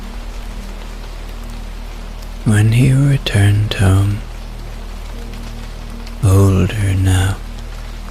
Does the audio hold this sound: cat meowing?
no